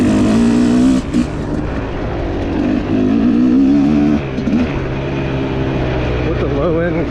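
Fantic XE300 motorcycle engine, a 2025 model ridden toward the woods, revving loudly with rising and falling pitch in short bursts, close by, under someone talking.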